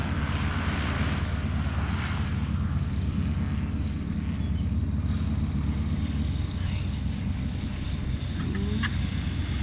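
A small airplane on a solo landing approach in a light crosswind drones steadily at a distance under constant wind rumble, with faint voices in the background.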